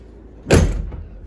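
The door of a 1999 Chevy C3500 truck swings shut with a single solid thud and brief rattle, close and clear over a quiet background.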